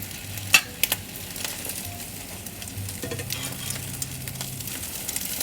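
Eggs sizzle softly in a pan for spicy tuna fried rice, with a few sharp knocks of a utensil against the pan over the quiet, steady frying.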